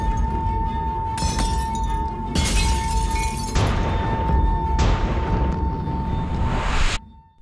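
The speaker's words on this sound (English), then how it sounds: "The wine glass was singing and shaking so quick my eye could barely catch it." A wine glass rings under a loud, sustained sung tone through an amplifier, shaking until it cracks. Several harsh bursts of sound swell over the steady pitch, which cuts off abruptly near the end.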